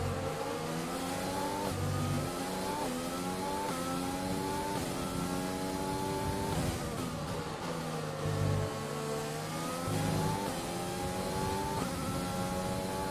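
Engine of a Formula 1 car in the racing game F1 2020 climbs through the revs in repeated rising sweeps as it accelerates, each gear change dropping the pitch before it screams upward again, loud and continuous.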